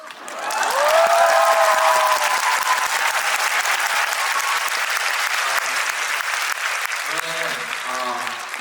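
A concert audience at a national tour show in Daejeon breaks into loud, sustained applause that fills the hall, with a voice briefly heard at the start and end.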